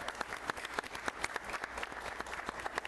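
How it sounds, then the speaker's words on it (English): Parents are applauded at a La Mirada, California city council meeting: a smallish crowd clapping at a fairly quiet, somewhat distant level, with individual claps distinct. "They give the parents a round of applause too."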